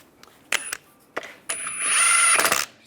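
A power tool tightens wheel lug bolts on a 1998-2010 Volkswagen Beetle, with short clicks and taps followed by a loud, close burst of whirring and rattling that runs for about a second before stopping.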